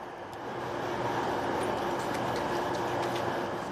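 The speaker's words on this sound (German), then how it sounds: "Der Zug kommt aus Stuttgart, abends geht's weiter nach Berlin." Train from Stuttgart pulling into Nuremberg main station: a steady, loud rumbling roar that swells in the first half second and then holds evenly, with faint clanks and squeals and no talking.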